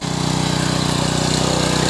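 A tractor engine just started and idling close by in a village setting, its loud, steady, rapid diesel chugging pulsing evenly and filling the whole moment without pause.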